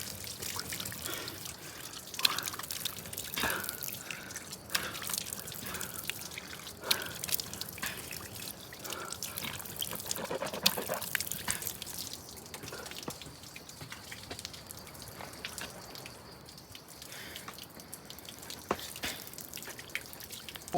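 Pure water drips and pours near a double-decker root bridge trail: irregular drips and splashes over a faint, continuous trickle, quiet and fairly close.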